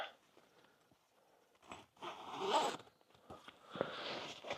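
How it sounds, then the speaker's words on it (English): Several quick zipper pulls, close up, in short rasping bursts separated by brief pauses and faint handling sounds. "I just zipper it down onto it"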